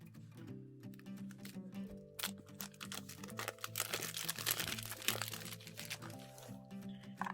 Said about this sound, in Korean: 비닐 다 뜯는 것만 해도 한참 걸렸어요